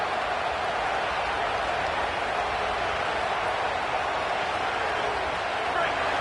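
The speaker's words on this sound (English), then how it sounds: "This crowd bringing the energy and noise early." Steady, dense roar of a large stadium crowd in an American football video game, a constant wash of noise with no breaks, loud and continuous throughout.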